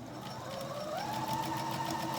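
A sewing machine runs in a steady, close whir while stitching a quarter-inch seam on a craft project, with no talking.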